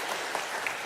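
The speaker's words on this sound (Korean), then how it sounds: "할렐루야 찬양들 위해서 다시 한번 박수 한번 해주시면 감사하겠습니다" Congregation applause at a Sunday worship service in a Yeosu church: dense, steady clapping fills the whole short moment evenly, with no voices over it.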